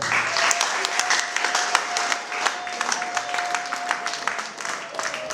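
Applause at a certificate-giving ceremony, a sustained wash of many hands clapping with a faint steady tone running underneath and a voice briefly heard.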